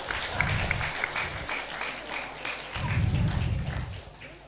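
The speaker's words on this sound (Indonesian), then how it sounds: "tepuk tangan sekali lagi untuk anak-anak" Audience at an Islamic religious gathering applauding children after their performance, steady clapping with distinct claps, joined by low rumbling background bursts.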